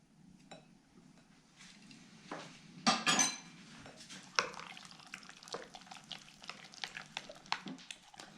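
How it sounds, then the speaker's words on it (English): Utensils scrape and clink against a bowl of spiced chicken marinade for Middle Eastern grilled chicken, in irregular, fairly quiet knocks and taps with a louder clatter near the middle. "now I'm going to go ahead and stir it"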